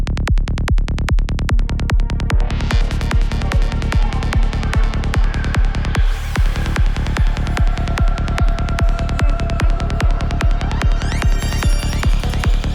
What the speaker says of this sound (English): in the lowest frequencies you can kind of hear that we get the suction effect back into the beat